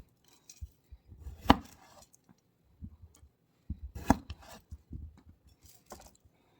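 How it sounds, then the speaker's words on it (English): Small potatoes are cut with a knife in a few sharp, close chops, two of them louder, separated by quiet gaps and light handling noises. "Here's a big one, so we need to give him an extra chop"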